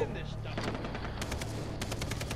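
Gunfire in Far Cry 3 co-op play, a quick string of sharp shots in rapid bursts, mid-distance and fairly quiet, with a voice talking over it.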